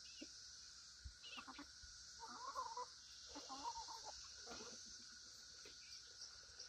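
Chickens cluck softly in short, scattered bursts at a distance, faint over a steady background hiss, with no one talking.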